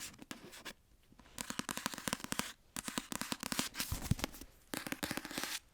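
Pen scratching across paper in short bursts of strokes with brief pauses between words, close and fairly quiet, no talking.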